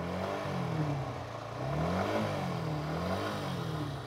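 A second-hand motorcycle idles quietly with a low, smooth engine hum that rises and falls slightly as it is revved, faint and steady throughout.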